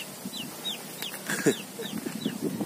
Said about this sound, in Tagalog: Bisaya na manok